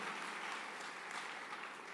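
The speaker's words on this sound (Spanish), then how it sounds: "Denle otro fuerte aplauso al Señor." Congregation applauding in a church, a steady dense wash of clapping held at an even, moderate level from start to finish, with no voices breaking through.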